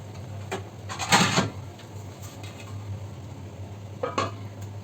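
A pot lid is set over a spiced egg dish on the stove, giving a bright metallic clatter close by, with a few lighter knocks and clinks of cookware before and after.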